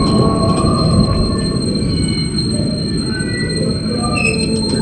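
The Brawijaya executive passenger train rolls past at a station in Indonesia, a steady loud rumble of wheels on rails with faint high squeals and a constant electrical whine.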